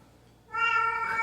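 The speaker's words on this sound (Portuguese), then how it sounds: "desculpa o gato" A house cat lets out a single drawn-out meow, close and fairly loud, starting after a half-second of quiet room tone.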